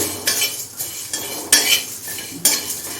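Masala spices stirred and fried on medium flame in a pan, with metal spoon scrapes and clinks against the pan at irregular intervals over a low background hiss, close and moderately loud, no voices.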